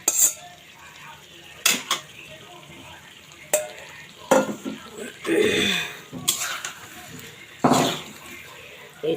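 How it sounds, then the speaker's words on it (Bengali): Eggs frying in a spiced curry base in a pan, a soft sizzle under repeated bursts of spoon-on-pan clatter and stirring, loud and close. "এই ডিমগুলো দিয়ে আমি কিছুক্ষণ একটু ভেজে নেব।"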